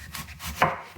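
A single crisp knife chop cuts through a cooking or eating apple on a board for apple pie, close and brief, with no speech.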